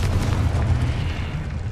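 The Confringo blasting spell going off in Hogwarts Legacy, a heavy rumbling explosion with a deep low boom that stays loud and slowly fades over under two seconds.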